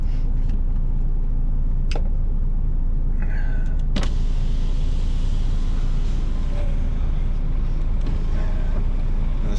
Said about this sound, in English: Scania just pulled up in front of us